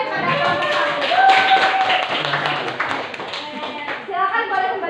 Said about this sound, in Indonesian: Berikan aplaus ya kepada kelompok